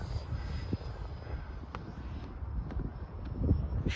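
A Freewing English Electric Lightning 64mm EDF RC jet runs at half throttle, giving a steady high-pitched ducted-fan whine mixed with wind buffeting on the microphone.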